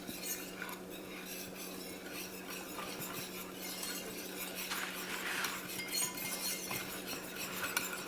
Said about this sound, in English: So let's go in with our JD. We're just gonna give this a little stir inside there